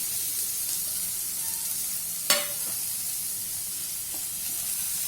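Tomato added to sorakaya (bottle gourd) curry frying in a pan: a steady hissing sizzle, broken by one brief sharp splash-crackle midway, then settling back to a constant fry.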